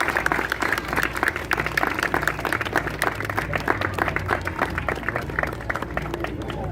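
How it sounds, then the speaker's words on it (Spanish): Lively crowd applause at a San Juan bonfire celebration, dense clapping with some low voices and chatter mixed underneath, steady throughout. "Un aplauso para todas y todos que estamos acá presentes."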